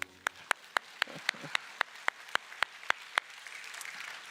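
Church worshippers at a Sunday service clap together in a brisk, even rhythm. Roughly a dozen sharp, moderately loud claps sound alone, with a faint murmur of the room trailing after them.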